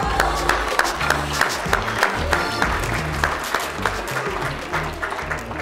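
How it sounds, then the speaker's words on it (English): Applause for a group of women at a business hall of fame awards ceremony, a steady, fairly loud wash of clapping from a room of people filling the whole stretch. "give all those ladies another round of applause"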